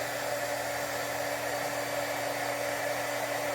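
An embossing heat tool blows hot air in a steady, unbroken whoosh with a constant motor hum, close and even throughout, used for heat embossing a slimline birthday card.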